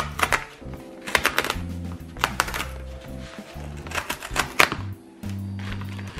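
A parcel holding a CEWE photo book is torn and unwrapped by hand, giving a string of sharp crinkling, ripping and tapping bursts with short pauses between them, heard up close with no talking.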